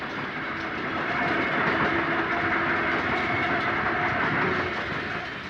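Eastbound interurban electric train drifting downgrade through a large pear orchard, a steady rolling rumble of wheels and rail with faint clickety-clack, sustained and fairly close, no voices.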